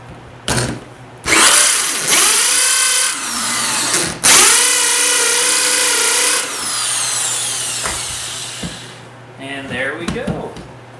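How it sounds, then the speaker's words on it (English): A power drill drives a small hole saw through rag joint pieces for an e-bike build, giving two loud, close bursts of whining, grinding cutting. The motor spins down between them, and lighter tool noise trails off after. "I'm gonna go ahead and cut this inner diameter with this smaller hole saw"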